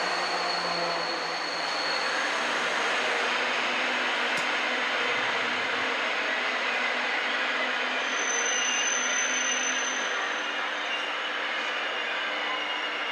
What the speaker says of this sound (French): Un turbo-train. TGV très grande vitesse